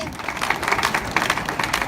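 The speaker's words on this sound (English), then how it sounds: "Big round of applause, please, for Kurt." A pitch competition audience applauds briefly, with a dense, steady wash of many hands clapping at moderate loudness and no clear break.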